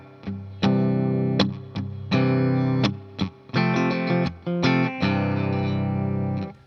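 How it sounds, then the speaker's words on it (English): Slightly overdriven electric guitar with added reverb plays a rhythmic series of strummed chords from a song lesson, the notes sounding spacious and lingering between strums. "Now I'll add in the reverb and you'll hear this sense of space."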